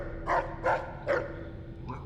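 A dog in the video game Fallout: New Vegas gives three short, evenly spaced barks over a steady low background hum, with a faint fourth yip at the end.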